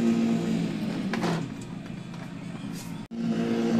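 Car engine in the racing game Dirt Rally 2.0 revving up under acceleration, a steady loud engine drone with a rising whine, a brief cut near the end as the gear changes, then the engine resumes.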